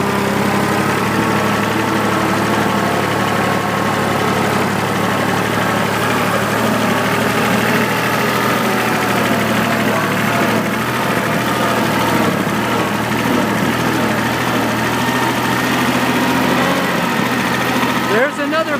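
A tractor engine idles steadily at close range, a continuous low rumble with vibration that holds level throughout and barely changes.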